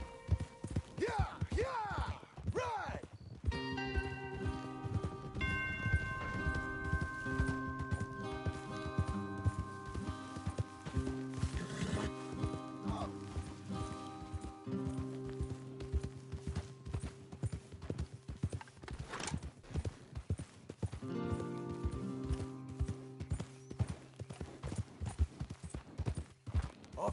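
Horses' hoofbeats clip-clop steadily in Red Dead Redemption 2, a fast rhythmic gallop running through most of the clip, with music and faint effects underneath and brief pauses.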